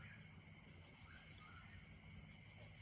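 Steady, faint high-pitched cicada chirring drones continuously in a quiet outdoor night setting on a bluff above a river, with a low background hum.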